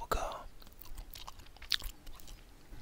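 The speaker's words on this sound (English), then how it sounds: "chew a little bubble gum" Bubble gum chewed right up at the microphone, with wet, sticky mouth clicks and smacks in an intimate ASMR setting, soft and irregular with faint breathy sounds between.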